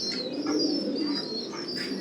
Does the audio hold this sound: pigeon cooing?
yes